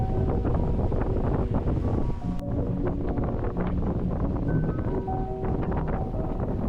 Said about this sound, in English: The wind speed has increased to 20 knots with an apparent wind speed of 18 knots